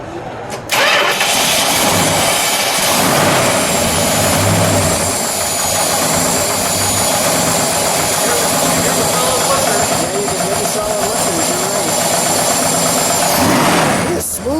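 A 1962 Plymouth Sport Fury convertible with a 413 Max Wedge V8 cranks and fires up, then settles into a loud, steady, rumbling idle that carries close and unbroken to the end.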